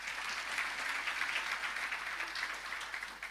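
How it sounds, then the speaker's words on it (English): Applause at a Free State primary school summit, a dense, even wash of many hands clapping from a seated audience, fairly soft and steady throughout. "Another round of applause."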